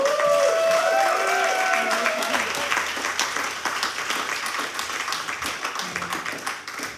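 Applause for a musician after the last song at a secular community event, full clapping with cheers and whistles that thins out gradually over several seconds.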